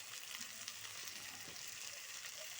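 Cumin and ginger paste sizzles steadily in hot oil, a faint, even frying hiss with no talking.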